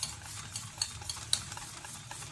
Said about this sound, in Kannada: ಈಗ ಒಂದು ಹ್ಯಾಂಡ್ ಮಿಕ್ಸರ್ ಅಥವಾ ಈ ಸೌಟ್ ಇರುತ್ತಲ್ವ ಅದರಲ್ಲಿ ನೀಟಾಗಿ ಮಿಕ್ಸ್ ಮಾಡ್ಕೊಳ್ಳಿ.